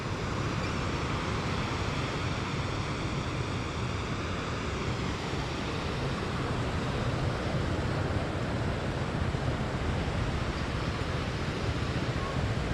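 Sea waves wash steadily onto Karon beach in Phuket, giving a continuous, full roar of surf close by with some wind buffeting the microphone throughout and no voices.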